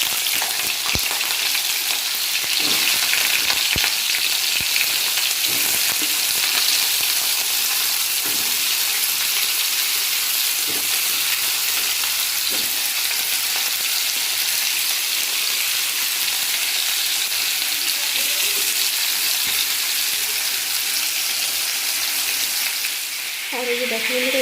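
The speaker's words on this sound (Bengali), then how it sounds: "এখানে তেলটাও গরম হয়ে গেছে। আর এদিকে তরকারিটা বসিয়ে দিই" Vegetable curry sizzles steadily in hot oil, a dense, continuous frying hiss with occasional stirring clicks, close and loud, with no talking over it.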